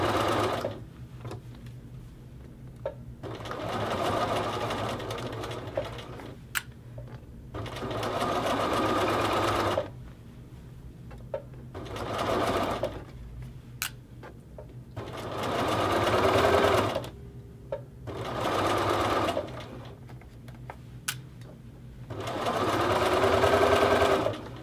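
A sewing machine stitches the casing on a hoodie hood, running in several bursts of steady mechanical whirring separated by short pauses, close and clear with no talk.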